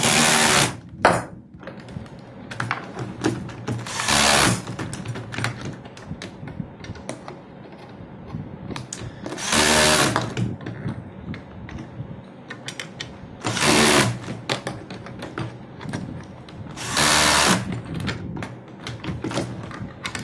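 A drill or screw gun with its clutch adjusted fires in short, loud whirring bursts while screws are driven into a 6P 7S BatteryBlocs battery pack. Quieter tapping and handling noises come between the bursts.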